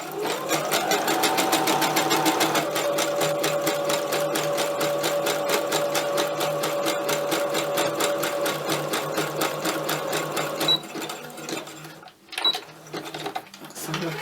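A sewing machine runs fast and loud, stitching scrappy fabric clusters for gift cards in a steady, rapid rattle for about eleven seconds before stopping, then a few short bursts of stitching follow.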